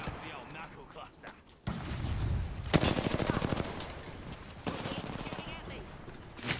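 Knuckle cluster gunfire in the video game Atomic Heart, rapid bursts of loud automatic shots in two long strings with a brief pause between, close and harsh, with game sounds around.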